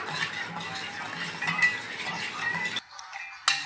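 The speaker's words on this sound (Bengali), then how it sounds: "ভালো করে মিলিয়ে নেব।" A spoon clinks and scrapes steadily inside a glass, stirring sugar and salt into plain water for a roasted-mango sherbet, with continuous close rattling that stops abruptly near the end before one last clink.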